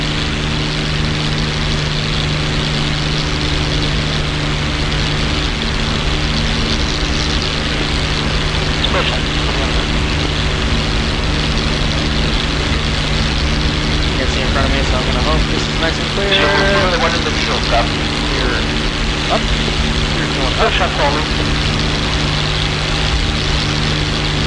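A P-51D propeller fighter in DCS drones loud and steady through its takeoff roll, the engine roar continuous with a constant low hum throughout while a voice talks over it.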